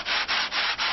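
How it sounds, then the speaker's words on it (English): Sandpaper is rubbed up and down against a wooden board that forms the back of a stick dulcimer. The loud, close strokes come as four or five steady rasping passes in even rhythm. "sandpaper up and down."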